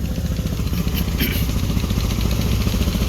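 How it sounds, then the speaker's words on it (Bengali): A fishing trawler's engine chugs steadily nearby as the boat heads out to sea after rain, a loud, rhythmic low thumping with faint clatter over it. "এই একটা ট্রলার যাচ্ছে"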